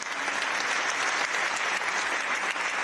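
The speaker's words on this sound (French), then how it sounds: "On peut l'applaudir." A crowd gathered for the evening inauguration of the PSG training campus applauds in a loud, even wash of clapping that keeps going steadily throughout, with nobody speaking over it.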